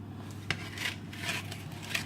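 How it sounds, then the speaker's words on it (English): Oven-baked fried chicken pieces are turned over on a tray: a few faint metallic clinks and scrapes of tongs against the pan, with sharper taps near the start and end over a quiet background hum. "Pull them out of the oven and flip them over."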